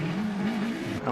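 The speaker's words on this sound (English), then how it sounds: "obert Penrose on the line then with the OMS, the CF04 with a 998cc engine." An OMS CF04 race car with a 998cc engine howls at Prescott hill climb, a steady, loud, high-revving engine note held for about a second with slight pitch wavering.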